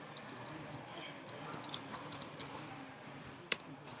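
Quiet keystrokes on a computer keyboard come in a quick, uneven run of soft clicks, with one sharper tap near the end.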